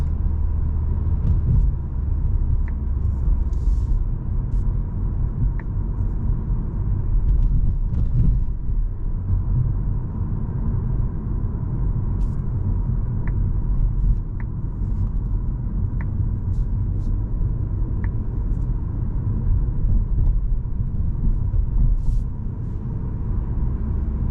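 A 2024 Volkswagen Golf 8 facelift with the 150 hp eTSI engine cruises at night, its steady low road and engine rumble filling the cabin continuously, with faint occasional clicks and no talk.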